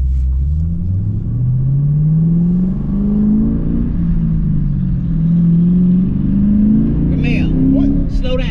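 A car accelerates, its engine rising steadily in pitch through the gears with a throaty rumble, close and loud, while people talk over it inside.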